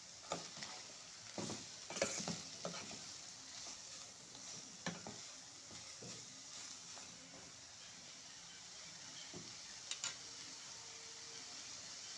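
Chopped mushrooms go into a pan where capsicum has been frying, for a mushroom cheese paratha, giving a soft steady sizzle broken by a few scraping stirs, fairly quiet and with no talking.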